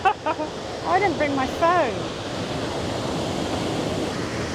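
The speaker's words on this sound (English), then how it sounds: "That is not a waterfall that you would like to dunk your head into." A powerful waterfall in the rural south of Spain roars as a steady, broad rush of falling water, close and loud. A person talks over it briefly at the start before the water continues alone.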